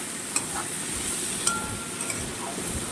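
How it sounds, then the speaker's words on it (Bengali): Dal and meat being stirred in a pan with a soft continuous sizzle, punctuated by a few faint spoon clinks against the metal. "এটাকে একটু ভালোভাবে নাড়তে হবে"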